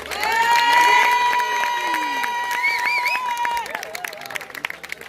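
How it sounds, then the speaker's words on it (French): Audience at a singing contest clapping and cheering for the sound technician, a burst of applause with whoops and shouts over a lingering sung tone, tapering into scattered claps. "vous pouvez applaudir à la sonorisation Renaud"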